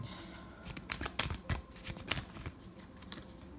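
A quick, close series of riffling tarot card shuffles, soft papery bursts in a short irregular rhythm.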